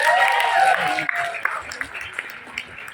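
Audience applause breaks out in a room, a dense burst of clapping that is loudest at first and then thins into scattered claps as a voice talks over it.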